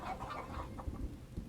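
Chickens in the video game Farthest Frontier cluck in short, soft bursts over a low rumbling background, and the sound is brief and fairly faint.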